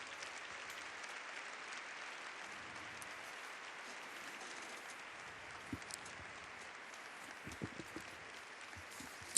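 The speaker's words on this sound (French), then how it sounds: "Et on les applaudit." A seated audience at a Neocatechumenal meeting applauds the standing first community, forty years old, with a continuous wash of distant, soft clapping and a few scattered louder knocks toward the end.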